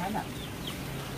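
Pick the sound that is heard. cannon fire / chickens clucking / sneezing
chickens clucking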